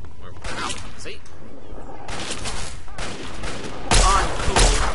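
Gunfire in Fallout 3 comes in a few sharp bursts of rapid shots spread across the moment, loud and close, mixed with a voice talking.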